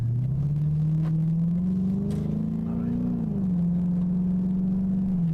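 A 2005 Chrysler 300 accelerating from inside the cabin, its engine drone rising steadily in pitch, easing back briefly and then holding a loud, smooth rumble.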